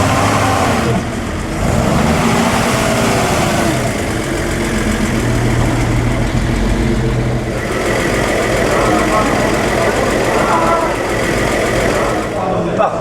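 A Lagonda V12 engine, a Le Mans V12 in a prototype car shown at a concours, idles loudly and steadily with a deep, continuous rumble. Voices talk over it throughout.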